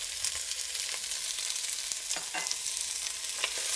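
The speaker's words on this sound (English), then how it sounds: "once I add these vegetables in, you want the vegetables to bounce around in the skillet" Vegetables and garlic sauté in a hot pot for a healthy fish stew, giving a steady soft sizzle with faint clinks and stirring scrapes throughout and no talking.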